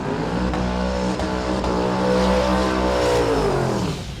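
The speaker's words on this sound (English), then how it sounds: "The turbo is knocking down most of the noise, so you get that low rumble." A turbocharged drag car's engine rumbles low and loud at a drag racing event, revving with rising and falling pitch, then fading slightly at the end.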